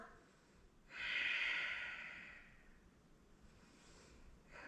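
A single long, forceful breath-of-fire yoga exhale through the nose during a power flow, breathy and close, swelling quickly then tapering off over a couple of seconds.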